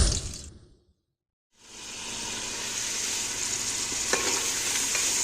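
Raisins frying in hot oil in a pan, a loud steady sizzle that starts after a brief silence and holds close and continuous, with a faint clink near the end.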